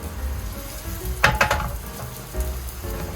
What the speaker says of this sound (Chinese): 油的部分可以多一点没关系，因为面包它很容易吸油。 然后油热了之后就可以下面包。